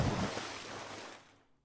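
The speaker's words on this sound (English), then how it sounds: "Doug hurls himself into the water" Big splash of a character cannonballing into cold lake water at a band camp in a video game, a loud broadband rush that peaks at once and fades over about a second and a half.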